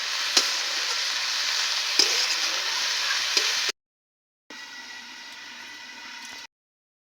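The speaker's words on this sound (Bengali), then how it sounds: "এবারে আমি নেড়ে চেড়ে 5 মিনিটের জন্য ঢাকা দিয়ে দেব" Khesari greens with salt being stirred in a pan, a steady close sizzle with scraping stir strokes, then a brief silence before the frying hiss returns and stops.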